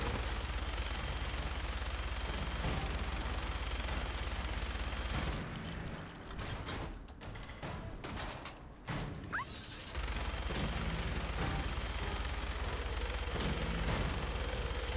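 Dense, rapid gunfire in Fallout 4 rattles almost continuously, a fast mechanical clatter of shots that pauses briefly in the middle before resuming, fairly faint.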